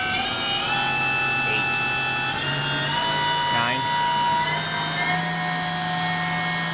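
Fanuc Robodrill Mate CNC machining center with Fanuc 0i-MC control, spindle spinning at 6000 RPM, giving a steady high whine with stacked tonal lines over a low hum, continuous and close.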